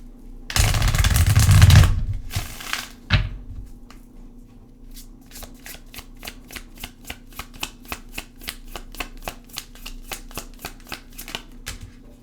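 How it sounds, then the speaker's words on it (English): A tarot card deck is shuffled: a loud riffle and bridge burst up front, then a steady run of quick, crisp card snaps and flicks, close and alone. "Let's get you a moon card because we are still in this moon energy."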